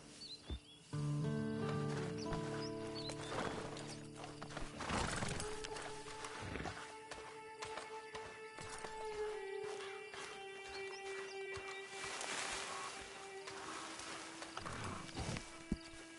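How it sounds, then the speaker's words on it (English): A horse in Red Dead Redemption 2 Online snorts and neighs, with a long whinny partway through and scattered hoof clip-clops, over faint game ambience and tonal music without talk. "Then you better get on this horse."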